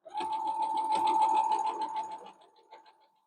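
A sewing machine stitches pinwheel quilt fabric in short bursts, a few stitches forward and a few back to lock the seam, then runs on evenly before slowing and stopping, close and moderately loud.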